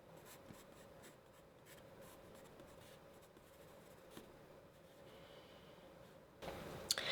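A hard 2H pencil sketching tree shapes on paper, a soft continuous scratching and rubbing of graphite strokes close up, with a louder rustle at the very end.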